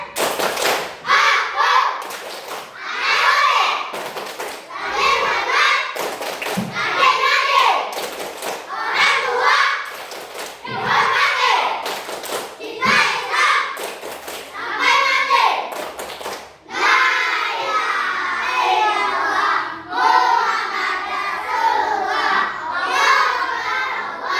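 Schoolchildren in a classroom chant the rhythmic 'tepuk anak soleh' clap, with bursts of patterned claps alternating with loud shouted chanting, repeated several times over a long stretch.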